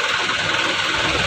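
A Jetbus 3 SCD coach, an Indonesian intercity bus, idles at a terminal, its engine giving a loud, steady rumbling drone with faint vibration throughout.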